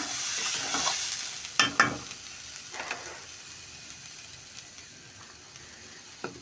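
Rice and lentils frying in a pan with a soft continuous sizzle, broken by a few clattering spatula scrapes near the start, then settling into quieter frying.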